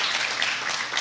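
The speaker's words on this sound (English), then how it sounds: "let's give Nigel a big hand clap of praise" Dense, hissy applause from an audience fills a short burst, steady and close with no voices.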